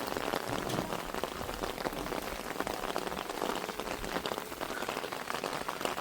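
Heavy rain pours down in a dense, unbroken hiss of drops hitting surfaces, steady and fairly close, with no voices.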